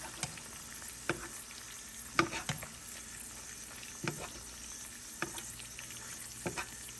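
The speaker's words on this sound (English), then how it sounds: "kind of do a little butter baste here" Snipe frying in butter in a pan as they are basted, a steady soft sizzle with scattered sharper spoon clinks and spatters every second or so, close by and without talk.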